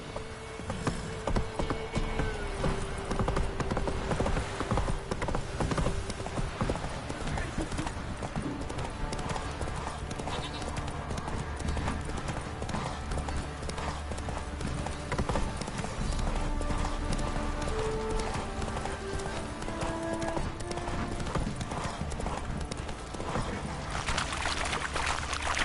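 Hooves of Roach, the horse in The Witcher 3, clop along continuously under ambient game music and background noise, steady and fairly quiet throughout.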